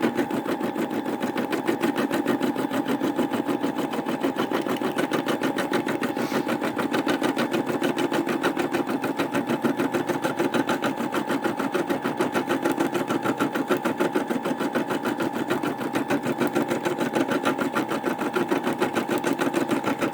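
Brother SE600 embroidery machine stitching a quilt design, a steady rapid needle chatter running continuously and close at even tempo, with no talk over it.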